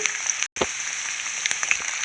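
Curry leaves, asafoetida and chillies sizzle steadily in hot oil for a Telugu festival tempering, a close, continuous crackling fry with a brief cut midway and scattered sharper pops.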